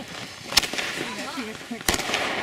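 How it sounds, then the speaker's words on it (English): New Year fireworks pop in two sharp, loud bursts amid outdoor crowd noise, with voices talking and whooping between the blasts. "these are serious fireworks, bro"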